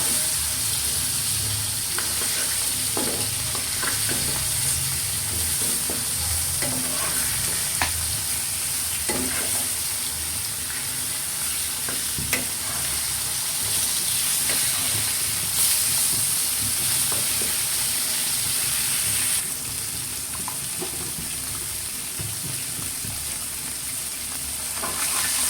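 Fish frying in oil in a pan for a fish curry, a constant loud sizzle and hiss close up, with occasional light scrapes and stirring taps throughout.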